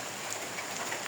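Steady rain falling on a village courtyard turned slippery, a dense even patter of drops holding close and constant throughout, with no voices.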